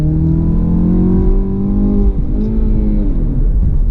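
A 2017 Chevy Camaro 2.0T four-cylinder with a manual gearbox revs hard from inside the cabin, its engine tone climbing and then faltering around a fumbled gear change before rising again, loud and close with no talking.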